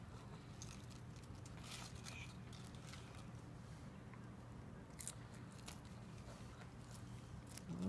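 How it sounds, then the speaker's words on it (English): Raw cabbage being bitten and chewed close up, a series of faint, crisp crunches repeating over a steady low hum, with no talking. "I love that crunchy sound."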